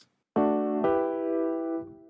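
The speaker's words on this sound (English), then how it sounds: "There's a combination of the electric piano we talked about before" Isolated electric piano part from a studio mix, two sustained chords with sharp attacks, the second restruck about half a second after the first, ringing bright and full before a fading release.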